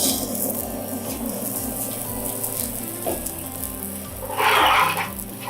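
Flour-dusted yellowtail fillets pan-fry in a generous layer of oil over medium heat, a continuous close sizzle and crackle that swells briefly louder near the end.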